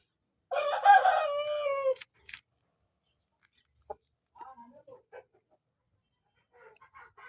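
A favorite pet rooster crows once, loud and close, a long harmonic call lasting about a second and a half, followed by a few faint clucks and small scattered sounds.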